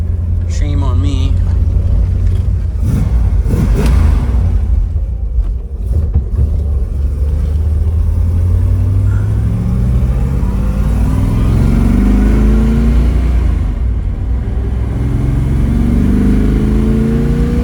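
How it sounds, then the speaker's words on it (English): The 340 V8 of a restored 1969 Dodge Dart 4-speed runs close by, a loud, steady engine note with revs rising and falling, and someone talks over it. "Man, what a nice running car."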